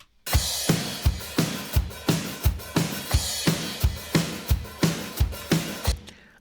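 A steady drum groove with evenly spaced, punchy kick and snare hits repeating for several bars, played alone with no voices.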